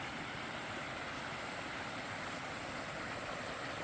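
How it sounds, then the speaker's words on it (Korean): Steady, dense rushing of a countryside valley stream in Hoengseong, South Korea, constant and fairly close, with no voices or breaks. "계곡 물소리 들리죠?"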